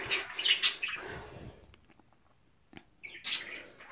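A pet bird with an injured wing chirps in short, bright bursts at the start and end, close and fairly loud, with quieter faint clicks in between.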